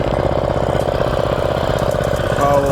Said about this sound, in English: power horse, engine, running and riding good. The running engine.